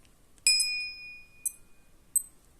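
A single sharp electronic beep from a button press on an original Casio G-Shock watch, clean and close, ringing briefly before fading, followed by two faint clicks.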